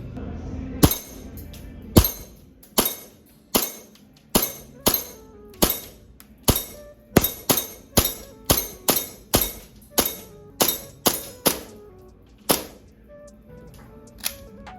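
A Tokyo Marui Hi Capa airsoft pistol fitted with an upgraded hop-up and trigger fires about two dozen sharp, loud, close shots, spaced at first and then coming in quicker runs, with no talk over them.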